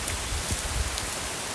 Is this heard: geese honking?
no